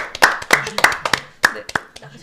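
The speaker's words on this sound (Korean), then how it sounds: "우리 안진용 기자님 박수로 맞이하겠습니다" Scattered hand claps from a small studio audience and hosts on a Korean talk show welcoming a guest reporter, a handful of sharp, uneven claps that thin out, with voices over them.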